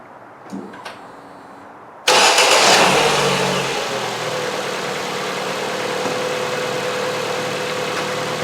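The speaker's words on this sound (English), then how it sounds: "So now I'm going to start the engine" A 2017 Ford C-Max 1.6 petrol engine with a P0352 ignition coil fault cranks and fires up suddenly after quiet, settling into a loud, steady idle that continues close by.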